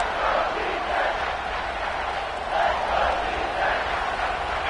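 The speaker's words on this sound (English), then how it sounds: "Third down, and the crowd really getting into it." Stadium crowd noise at a Georgia versus Ohio State college football bowl game in a video game, a steady roar swelling louder on third down with a broad, continuous wash of many voices.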